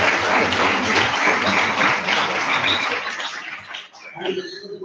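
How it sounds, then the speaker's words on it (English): A university foundation day audience breaks into loud sustained applause, dense clapping filling the hall before thinning out into scattered claps near the end. "So we need a big applause for this achievement of the faculty."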